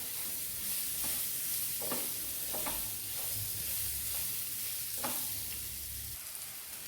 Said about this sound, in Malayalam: നമുക്കിതിലേക്ക് വെന്ത ഉരുളക്കിഴങ്ങ് ഇട്ട് കൊടുക്കാം. നന്നായിട്ടൊന്ന് വഴറ്റിയെടുക്കാം.